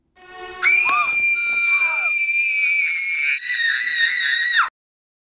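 A girl screams loudly in a long, piercing, sustained cry with a brief break near the middle, after a short rising whimper, then cuts off abruptly into silence.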